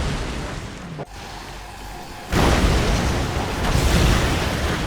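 Shogun battleships blowing up in the Red Alert 3 real-time strategy game: a loud, sustained explosive roar that cuts out briefly, then surges back as a heavy, rumbling blast that lingers.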